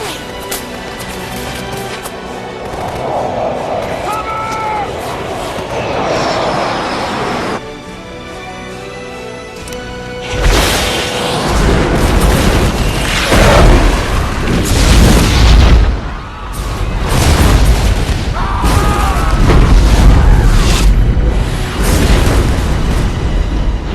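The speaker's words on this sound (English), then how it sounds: "The planes providing air support are armed with 2 infrared air-to-air missiles called Sidewinders" Film battle scene with air support fighter jets: heavy booming explosions and a roaring rush of jet noise building through the second half, loud and dense, with shouting voices mixed in.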